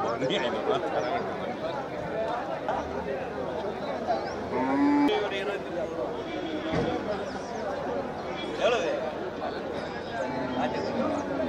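Cattle moo repeatedly amid the steady bustle of the Melapalayam livestock market, with the lowing calls rising over constant crowd chatter and people talking nearby.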